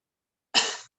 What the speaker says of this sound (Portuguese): Tosse um pouquinho para ver também como parte daqui de cima